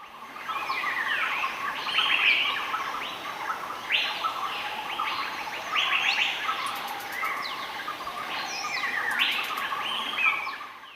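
Forest birds in Laos chirp and twitter continuously, several overlapping calls rising and falling in waves, moderately loud against a steady wild background.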